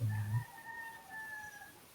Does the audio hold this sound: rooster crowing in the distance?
yes